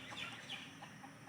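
Chickens by a pond give faint, scattered clucks, distant and low against a steady outdoor background hiss.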